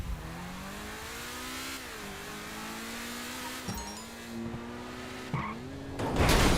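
DeLorean car engine in GTA 5 rising and revving as it accelerates, with gear-change dips along the way, loud and close with no talk, ending in a burst of noise.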